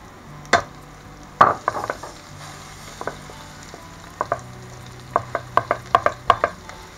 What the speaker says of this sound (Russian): Теперь добавляем банан и жарим в течение 5 минут